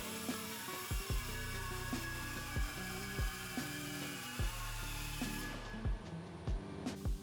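A tool cuts the metal tabs off a sway bar bracket on a fifth-generation Toyota 4Runner, giving a steady high-pitched whine with regular thumping pulses that runs nearly seven seconds before cutting out.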